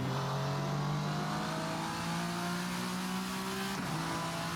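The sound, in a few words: VRC Vendetta V60 race car engine revving with turbo, Assetto Corsa video game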